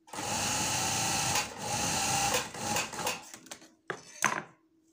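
A sewing machine runs in steady bursts, stitching a shirt seam along its piping, with short pauses and a few clicks of handling near the end.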